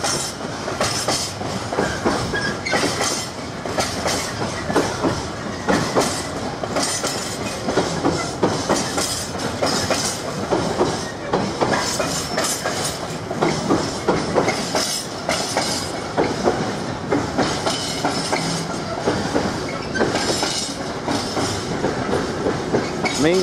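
A freight train hauling intermodal wagons passes through the loop at Ely station on its way to Felixstowe North Terminal, a loud continuous rumble with steady clickety-clack of wheels over rail joints and occasional squeals throughout.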